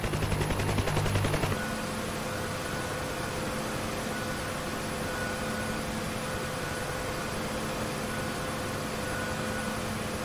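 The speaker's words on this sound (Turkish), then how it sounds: "Evet, helikopteri çalıştırdık." UH-1 Huey helicopter engine running in the DCS World flight simulator, a steady dense turbine roar with a faster chopping rhythm at the start, constant and loud throughout.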